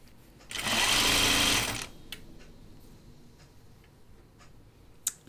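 A sewing machine stitches a half-inch seam on a dress cuff in one loud, steady burst of about a second and a half, then stops, leaving a quiet room with a few small clicks.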